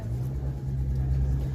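Car engine idling at a car market, a steady low rumbling hum with a strong droning tone, close and continuous.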